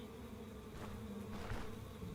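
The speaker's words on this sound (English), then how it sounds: "Now I hear wasps," Faint, continuous buzzing of wasps in the video game Stone Shard, a soft droning hum layered over low background ambience, with no talking.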